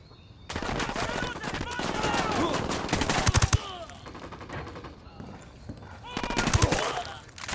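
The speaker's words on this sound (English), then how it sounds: "Opening fire on these fuckers." Bursts of automatic gunfire in the Ghost Recon Wildlands video game, loud, rapid rattling volleys with a pause in between, mixed with voices talking in the game.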